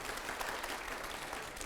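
Steady, dense clapping played as an applause effect in a televised interview, uniform and moderately quiet throughout, with no voices.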